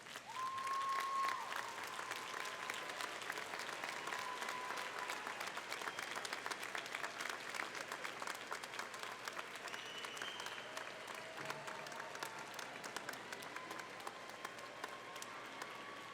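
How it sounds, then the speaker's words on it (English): A graduation crowd at the Beavercreek High School Class of 2025 ceremony gives the graduates sustained applause, heard from a distance as a soft, even wash of clapping that lasts the whole time. "give them a round of applause that they deserve"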